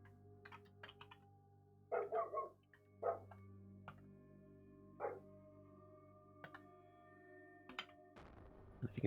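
A housemate's dog barks in short separate bursts from another room, several single woofs spread out at irregular intervals over a quiet indoor background with a faint hum.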